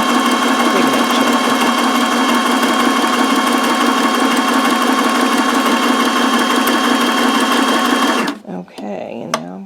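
A sewing machine runs loud and close, stitching paper pages of a handmade baby book in one continuous burst that stops abruptly near the end, followed by brief rustling.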